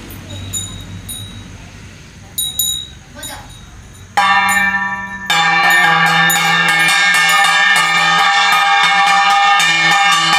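A small metal bell rings repeatedly at close range in a rapid clanging rhythm, loud and bright, after a few scattered earlier strikes, with voices nearby.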